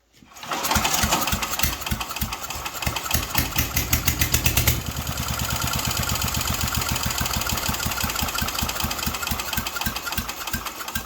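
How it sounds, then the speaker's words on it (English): A chipper shredder's small engine that sat outdoors for two years sputters into life and keeps running loudly and steadily, its rapid firing pulses shifting pitch slightly partway through, with no talking. "So it looks like we got a good running engine, guys."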